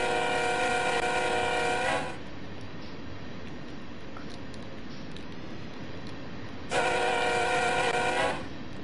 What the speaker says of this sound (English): Strange horn.